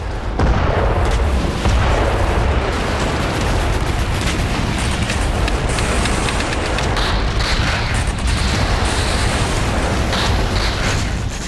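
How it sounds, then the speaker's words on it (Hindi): Explosions and booming blasts during an Israeli army operation in the West Bank, heard as a loud, dense, continuous roar of rumbling detonations with crackling bursts, no voices. "इजरायली सेना बारूदी हमले से जेनिन, नबलुस और रामल्लाह को किस तरह समतल करती जा रही है"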